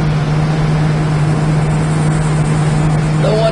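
A 1970 Plymouth Cuda engine running with a steady low idle hum, continuous and even at close range, with no talk over it.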